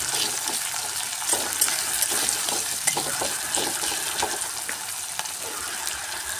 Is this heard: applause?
no